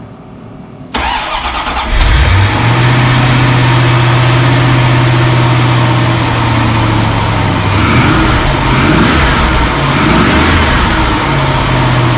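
A C4 Corvette ZR-1 with its LT5 engine, freshly fitted with a new fuel pump, cranks and fires about a second in, then settles into a steady, loud idle close by, with no talking.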